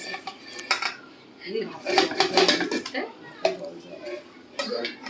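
Rice being tipped into a pot while chicken biryani is cooked, giving clattering scrapes and knocks of metal cookware and utensils, close and moderately loud, with voices chatting over it.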